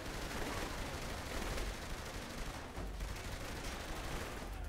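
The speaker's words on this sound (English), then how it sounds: "They already started shooting." Gunfire in the video game Saints Row: The Third, a dense, continuous barrage of overlapping shots with steady loudness throughout and a brief dip near the middle, no speech.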